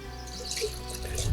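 Vinegar poured into rhubarb syrup in a bowl while making an 18th-century shrub: a short, steady, close liquid trickle and splash lasting just over a second.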